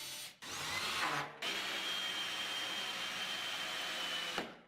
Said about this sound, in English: The Drive 90 Plus makes drilling into tight, confined spaces super simple and easy.